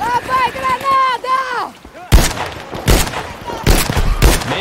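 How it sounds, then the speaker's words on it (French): Explosions and gunfire from a shooter video game burst out sharply and loudly, with several hard booms and cracks after an opening of pitched, whooping tones. A player talks briefly near the start. "Grenade."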